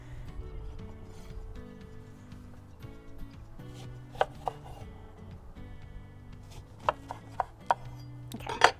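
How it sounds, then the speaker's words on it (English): A knife cuts two lemons in half on a board for a chili lemon salmon marinade: a few sharp, close chopping knocks, some spaced and some in quick succession, over a low steady background hum. "We're going to cut up 2 lemons. Just cut them in half"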